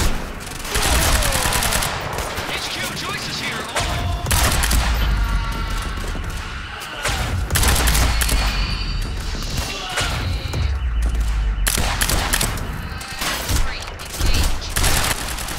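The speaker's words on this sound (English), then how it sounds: "I know I'm getting shot, just don't know where from." Gunfire from the video game Quantum Break: loud, sustained bursts of automatic fire with sharp impacts and crashes, rattling on almost continuously with brief lulls.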